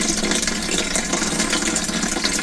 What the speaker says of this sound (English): The disadvantage of this running water is it always makes you want to go for a pee.